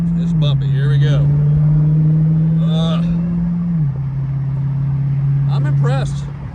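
A Dodge Hellcat Redeye widebody convertible rumbles steadily over a rough railroad crossing, its loud engine drone holding near one pitch with a brief dip, while a person talks over it at intervals.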